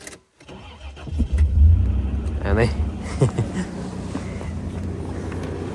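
An outboard boat motor on a river is started using power from an old car battery; the engine cranks and catches, then runs with a close, steady mid-pitched rumble while someone talks briefly.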